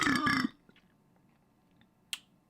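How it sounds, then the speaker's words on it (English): A loud, close burp lasts about half a second, then near-silence follows, broken by one short sharp click. "I burped there."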